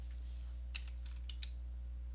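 A few scattered keystrokes on a computer keyboard, soft close clicks spaced irregularly over a steady low hum, with no talking.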